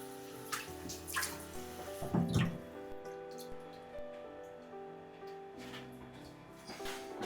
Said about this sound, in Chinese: 再换清水多清洗2遍，一直到水清澈为止